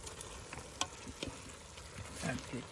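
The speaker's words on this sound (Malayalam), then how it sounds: "നമുക്ക് മസാലയിലേക്ക് ചിക്കൻ ഇട്ട് കൊടുക്കും." Chicken going into a hot masala for village-style biryani, a soft, fairly quiet frying hiss with a few scattered clicks and scrapes from the pan.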